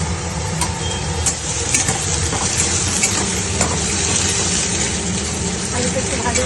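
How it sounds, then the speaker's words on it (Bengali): Potatoes fry with cumin seeds and bay leaf in oil, giving a dense steady sizzle close to the listener, with occasional stirring clicks and a voice speaking in the background. "আলুটা একটু ভাজা ভাজা হবো।"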